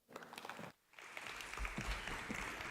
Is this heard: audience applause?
yes